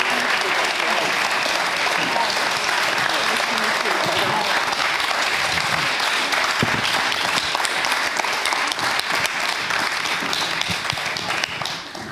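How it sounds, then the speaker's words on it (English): An audience applauds for the directors of a documentary at a film talk event, sustained dense clapping from a full room lasting throughout and tapering slightly at the end. "please give a big round of applause to the directors of the film, Rachel Lea Jones and Philip Baiche"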